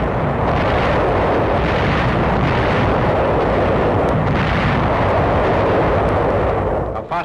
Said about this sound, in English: preceded by one of the heaviest artillery barrages of the